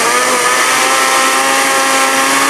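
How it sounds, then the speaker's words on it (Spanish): Kitchen blender whirs continuously, loud and close, blending mamey sapote with the first flan ingredients, a steady motor roar with no pauses or voices. "vamos a llevar a licuar por aproximadamente 2 minutos hasta que el zapote"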